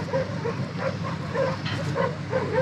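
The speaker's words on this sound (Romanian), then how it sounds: "Acum ne aleargă și câinii." Sheepdogs bark repeatedly while chasing a moving JAC 8 Pro pickup truck, muffled yaps in an uneven rhythm over steady engine and road rumble heard from inside the cab.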